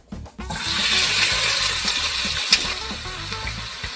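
Chopped onion hits hot palm oil for an okra soup and breaks into a loud, close, crackling sizzle that keeps a steady hiss, with a few stirring knocks underneath and no speech.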